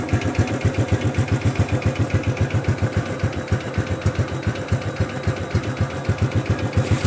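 A used underbone motorcycle with fuel injection idles smoothly up close, putting out a steady, even low thump with no rattle or knock, running alone without any talk over it.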